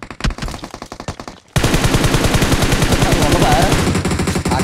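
Automatic gunfire from a suppressed gun in a video game: a quick run of rapid, evenly spaced shots, then a brief pause and a dense, loud sustained burst of rattling fire that continues to the end.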